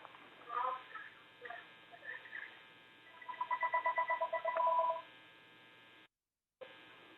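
A telephone rings in the background of an online board meeting, giving a run of quick, evenly pulsed electronic chirps after a few scattered tones, then cutting out briefly.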